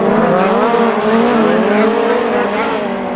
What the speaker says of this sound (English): oh, and a spinner to the inside